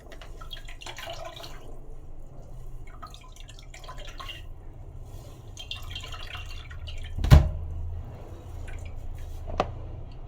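Grated coconut is squeezed by hand into a container, giving soft wet squishing and steady dripping of milk close by, with a sharp knock near the end.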